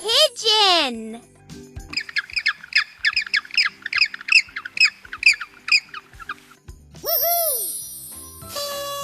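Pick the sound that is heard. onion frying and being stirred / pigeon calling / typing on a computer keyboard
pigeon calling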